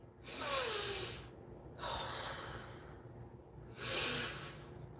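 Three slow, deep breaths sound close to the microphone, each a loud, airy rush of air with a gap between them, over quiet room tone.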